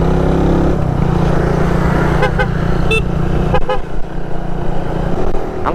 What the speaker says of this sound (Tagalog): Ang cute ng busina ko.